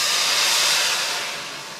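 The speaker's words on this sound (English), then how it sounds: "you want it to kind of bubble and boil, burn off the alcohol" Dry white wine hits a hot pan of softened aromatics for mussels with linguine, letting out a loud, broad sizzling hiss that slowly eases over a couple of seconds.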